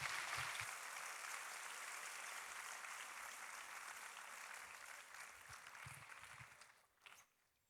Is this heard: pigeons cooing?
no